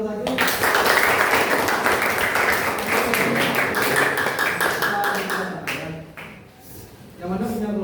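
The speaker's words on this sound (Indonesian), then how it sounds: "Tepuk tangan dulu kelompok satu." A classroom of students claps for a presenting group, with brisk, dense hand clapping that is loud at first, thins out and tails off, before voices start talking near the end.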